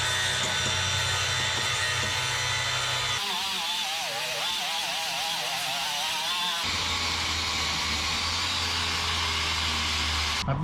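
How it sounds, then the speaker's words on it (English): An angle grinder smooths down a fresh weld on rust repair panels of a 1961 Parkwood wagon, giving a continuous loud, close whine whose pitch dips and wavers in the middle as the load changes. "Weld her up, grind her out."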